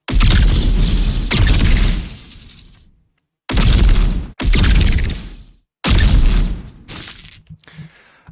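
Heavy, booming blasts with a shattering crunch from designed magic staff shots, several in a row with brief silences between, loud and close, each decaying into a rumbling tail.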